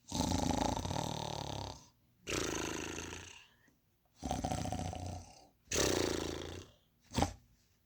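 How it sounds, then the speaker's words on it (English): A giant snores loudly in a house, four long rasping rumbling breaths with short silent gaps between them, followed by a brief snort at the end; it sounds like a voice performing the snore. "soon he began to snore until the whole house shook"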